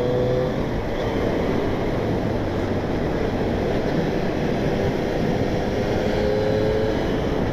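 A Triumph Street Triple S 660 from 2020 runs on the road, its engine drone steady and fairly loud throughout, mixed with constant wind rush and no pauses or talking.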